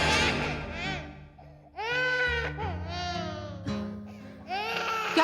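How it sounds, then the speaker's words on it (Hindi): An infant cries in a series of loud, wavering wails separated by short gasping pauses, close and clear, with a few whimpering breaths between the longer sobbing bursts. "तुमने एक बच्चे के रोने की आवाज सुनी?"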